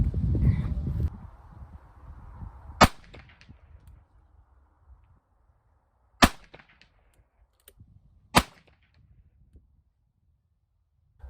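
A Ruger Bisley .44 Magnum revolver fires three single loud, sharp shots spaced several seconds apart at an outdoor range, shooting at 100 yards, with quiet pauses between them.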